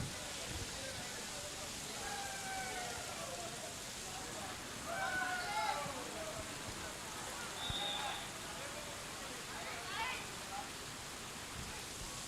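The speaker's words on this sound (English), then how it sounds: "And look at the rain, it's just pouring wild" Heavy rain pours onto an outdoor football pitch during a penalty shootout, a steady dense hiss with no break, while faint voices come and go beneath it.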